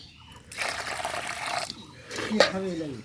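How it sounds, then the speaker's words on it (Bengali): Water pours into a bowl of kaon millet rice, a steady splashing fill that lasts about a second, then a brief trickle and drip at the end, close and clear. "মনে করেন যে পানি অ্যাড করে দিলাম"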